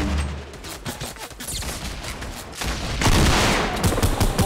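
Gunfire in the video game Fortnite, bursts of rapid shots in clusters that grow louder and denser toward the end, with no talking over them.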